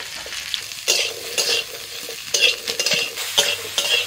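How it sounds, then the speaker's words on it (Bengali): Mango pieces hit hot mustard oil tempered with dried red chillies and black mustard seeds in a wok, sizzling in loud bursts as a spatula scrapes and stirs them, with no voices. "ফোড়ন হয়ে গেছে, আম দিয়ে দিচ্ছি।"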